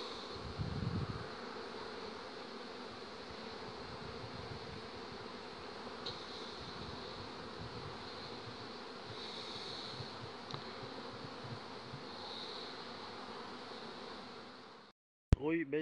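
A dense, continuous hum of honeybees fills a large apiary of about 1,200 hives in July, steady throughout with occasional louder passes of individual bees near the microphone.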